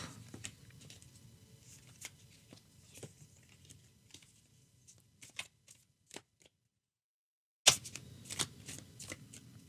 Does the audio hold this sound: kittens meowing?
no